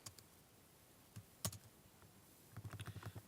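Quiet keyboard typing: a few scattered clicks, then a quick run of evenly spaced keystrokes near the end.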